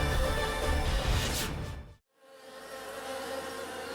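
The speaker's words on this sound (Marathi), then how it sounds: "किडेच किडे सगळीकडे" A swarm of insects buzzes over a crop field, a dense, loud, continuous drone that cuts off abruptly for a moment and then returns.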